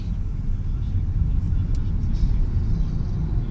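A Lexus with twin exhaust pipes on a city street in Kurgan gives off a steady, loud, low engine rumble with no clear rise or fall throughout.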